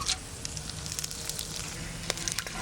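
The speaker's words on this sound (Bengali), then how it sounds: "এবার তেল দিয়ে দেবো, সর্ষের তেল। ফোড়নে দেব তেজপাতা, এলাচ, দারচিনি, লবঙ্গ আর গোলমরিচ।" Steady crackling sizzle of whole spices (bay leaf, cardamom, cinnamon, cloves and black pepper) tempering in hot mustard oil in a pot on a clay stove, continuous and close with sharp pops.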